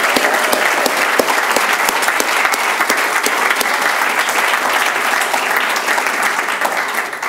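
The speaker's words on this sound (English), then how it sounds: "Please join me in giving one more round of applause to all of our," Applause for award recipients at a book award ceremony, loud and sustained from a large audience, with sharp individual claps standing out over the dense roar throughout.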